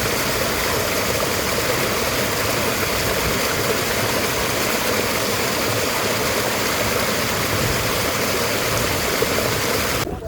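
Water of the Banas river at Balaram rushes steadily in a broad, continuous wash, loud and close, with no voices over the flow.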